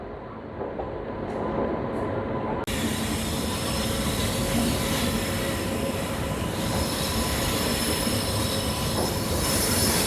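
Kolkata-Digha special express train running on its tracks, heard from on board as a loud, continuous rumble and rattle of wheels throughout.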